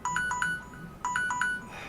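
A phone ringtone goes off during a Kerbal Space Program recording: two quick bursts of bright electronic chime notes, a short rising melodic pattern played twice, fairly clear over a quiet background.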